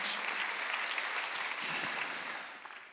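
A congregation claps together during a Sunday worship service at a Korean church, a dense burst of many hands that holds steady and then tapers off at the end.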